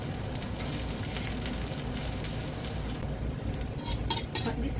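Onions sizzling and frying in a pan until golden brown, a steady close crackle with a few utensil scrapes and clinks near the end.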